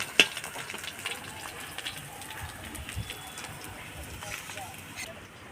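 Long strips of potato fry in hot oil with cumin seeds in a home kitchen, giving a steady low sizzle with occasional clinks and stirring sounds throughout.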